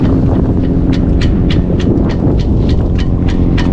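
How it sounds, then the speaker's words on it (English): Strong wind roars steadily while sailing off Mount Desert Island, Maine, a loud constant rumble buffeting the microphone, with faint rhythmic knocks under it. "I'm surprised there's as much wind as there is"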